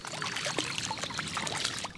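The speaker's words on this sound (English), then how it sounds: "With the cool, clear spring water" Cool, clear spring water trickles and splashes where it meets the muddy Missouri River, a close, steady dribble with no speech.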